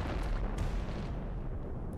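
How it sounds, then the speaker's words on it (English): Bubble Cannon fire in Nuclear Throne: a dense, continuous rumble of booming, bursting shots with a few sharp pops on top, sustained loudly throughout with no talking. "when I started shooting the Bubble Cannon"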